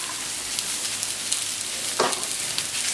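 Thick onion rings and courgettes sizzling together on a hot plancha, a steady broadband crackle with a brief louder spatter near the end, close and continuous, no voices.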